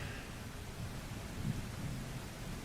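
Gentle rain ambience, a soft steady hiss of falling drops with a faint low rumble underneath, continuous and even with no voices.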